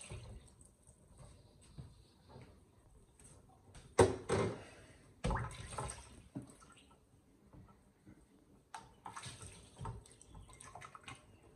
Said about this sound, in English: I'm actually going to sit this in cold water, submerged in cold water,